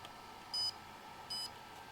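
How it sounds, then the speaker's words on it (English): An FPV drone gives two short, high electronic beeps about a second apart during binding, over a quiet background hum. "I hear it beeping"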